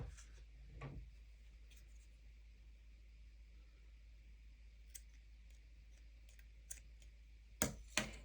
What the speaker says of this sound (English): So now we're going to cut this material.